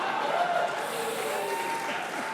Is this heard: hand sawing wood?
no